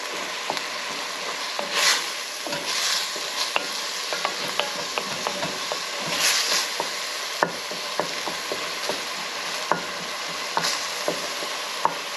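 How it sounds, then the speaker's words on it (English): Garlic sizzles steadily in a hot pan for a weeknight dinner, with a utensil stirring and scraping through the oil in scattered clicks and a couple of brighter bursts of frying, close and alone with no voices. "I'm gonna cook this until our garlic is fragrant"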